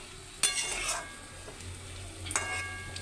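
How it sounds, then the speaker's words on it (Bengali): Boal fish being stirred and braised in simmering gravy in a pan: scraping stirring strokes under a soft sizzle, with a couple of sharp utensil clinks against the pan. "মাছটা দিয়ে গ্রেভির মধ্যে এরকম করে কষিয়ে নিতে হবে"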